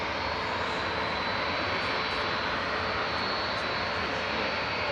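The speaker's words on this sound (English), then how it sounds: "The endangered 757." Boeing 757 engines at Manchester Airport, a dense steady jet roar with a thin high whine running throughout, constant and fairly near, no talking.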